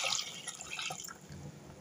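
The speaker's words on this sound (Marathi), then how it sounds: "आता यात आपण गरजेनुसार पाणी घालूया." Water poured into an egg curry in a pan, a soft trickling, splashing pour with faint drips, close and quiet with no talking.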